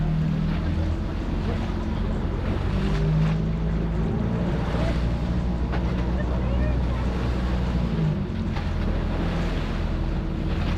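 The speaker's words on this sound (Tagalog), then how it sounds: "Ang taas ng alon." A tour boat near El Nido rides through high waves in stormy wind, with constant loud wind buffeting, water crashing and engine drone throughout, and people talking intermittently over it.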